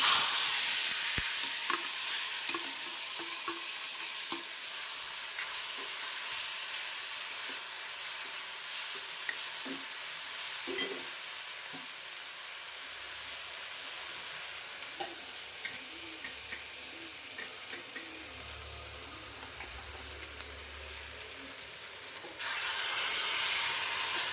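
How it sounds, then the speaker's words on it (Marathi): Prawns dropped into garlic frying in a pan for a Malvani-style dish, a steady close sizzle and stirring running throughout, with a few soft clinks and no talk. "आता लसूण लाल झाल्यावर आपण कोळंबी टाकून घ्यायची"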